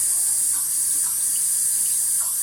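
Hot water runs from a tap into a sink drain in a steady, loud, close stream, with no talking.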